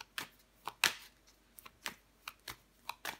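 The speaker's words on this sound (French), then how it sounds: "Je vais recouvrir des cartes." Tarot cards being dealt onto a table and covered during a reading: a series of sharp, close card slaps and flicks, spaced irregularly and heard alone.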